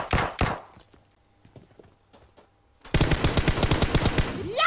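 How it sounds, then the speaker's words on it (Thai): Pistol gunshots in a video game: two sharp close shots at the start, then a quieter lull, then a loud rapid string of shots that fills the rest of the clip. "เอาปืนพกยิงน้องเอ้ยตัวข้างหลัง"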